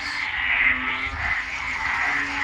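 Frogs croak on a porch at night during rain, a steady chorus of trilling calls over a soft wash of rainfall, moderately near and without speech.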